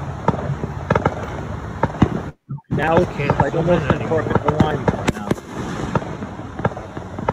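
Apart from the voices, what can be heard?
fireworks exploding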